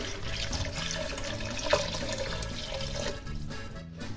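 Water poured into a pot of Polish mushroom soup, a steady splashing and running stream of liquid at moderate level, continuous throughout with a slight swell partway through and no talking.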